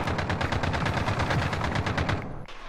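Rapid automatic gunfire in Call of Duty: Modern Warfare, a loud, continuous burst of evenly spaced shots lasting a couple of seconds before stopping abruptly.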